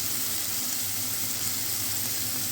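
Onions sizzle in hot ghee in a kadhai, a steady, soft hiss and crackle that continues evenly throughout with no talking.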